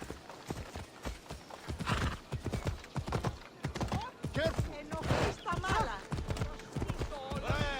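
Horse hooves clip-clop in a steady galloping rhythm throughout in Assassin's Creed Odyssey, close and clear, with a horse whinnying and someone speaking over the ride.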